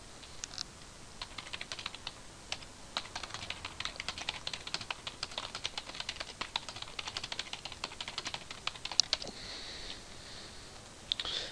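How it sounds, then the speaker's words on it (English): Fingers type on a computer keyboard to chat on Skype, a quiet continuous patter of rapid key clicks with irregular rhythm and occasional louder taps, close and alone. "Type on Skype."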